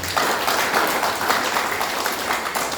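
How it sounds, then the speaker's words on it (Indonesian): A church congregation claps at a Christmas family worship service, a dense, loud, continuous burst of applause from many hands with no voices over it. "Tepuk tangan buat kemuliaan"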